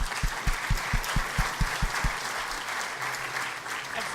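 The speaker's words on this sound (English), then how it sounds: "So can we please give Boyan and Jason a big round of applause for their input" Conference audience at a low-carbon smart mobility technology event applauding the speakers, a steady indoor round of clapping with a rhythmic series of thumps early on, no talk over it.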